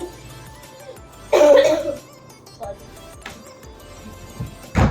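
A loud cough bursts out in a home kitchen while masala spice mix is being prepared, followed later by a couple of smaller coughs and another sharp one at the end, with household background noise.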